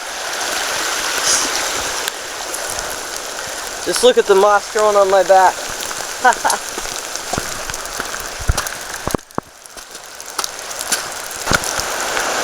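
Heavy rain pours steadily on the North Fork Skokomish River near Camp Pleasant, a dense wash of hiss throughout, with someone talking briefly partway through.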